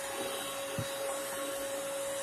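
A Bissell CrossWave Premier wet dry vacuum runs with a constant loud motor whine and a steady tone, with a brief low thump near the middle and no talking.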